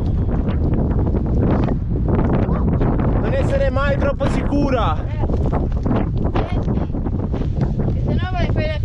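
Strong wind blowing beside a lake while camping, a loud constant rumble and buffeting across the whole stretch as people talk and one voice rises high over it.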